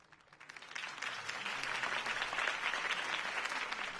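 After a campaign speech in the Telltale Batman video game, a crowd breaks into applause that swells within a second and then holds as steady, dense clapping.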